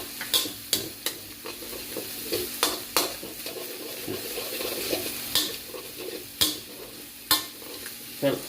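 Pork and garlic stir-fried in a pan for dry Thai basil pork, with a steady background sizzle and sharp, irregular clinks and scrapes of a utensil stirring against the pan.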